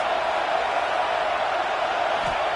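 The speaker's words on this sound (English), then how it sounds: "This crowd trying to make life miserable for this offense." Steady, dense stadium crowd roar at a college football game, a loud unbroken wash of many voices holding at one level for the whole stretch without distinct cheers.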